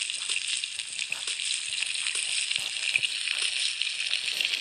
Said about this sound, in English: maybe the deep fry will help then